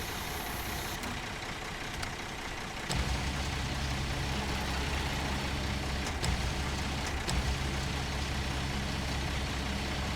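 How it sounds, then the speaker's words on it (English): Truck crane anchors deploying in the SnowRunner video game, a heavy mechanical thunk followed by a steady low engine hum and faint clanks from the truck. "activate anchor"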